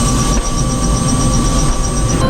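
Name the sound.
helicopter arriving for pickup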